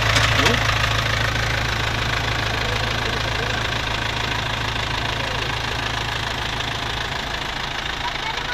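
An Isuzu Panther 2000 engine idles steadily with a constant mechanical hum and light ticking, close and loud throughout.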